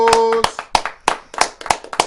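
Live audience at a SXSW event in Austin, Texas claps in a short burst, sharp hand claps repeating about every third of a second, close and crisp, with a brief vocal sound at the start.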